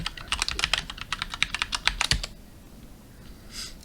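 Rapid close clicking of a computer keyboard as a password is entered for remote login, a quick run of keystrokes lasting about two seconds and then quiet.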